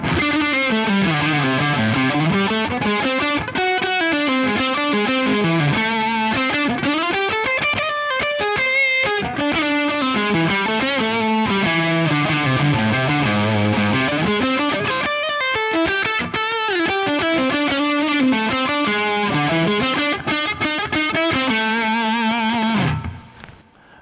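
A distorted electric guitar solo with effects plays a long run of melodic pentatonic lines that bend and slide through shifting note choices, loud and continuous for over twenty seconds before stopping abruptly.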